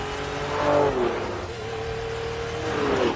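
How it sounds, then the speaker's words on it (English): A Ferrari Testarossa with a 5-litre V12 engine revs and accelerates, rising twice in pitch with a brief easing between pulls, heard moderately close and without voices. "when you unleashed its 5-litre V12, it would do 180 miles an hour."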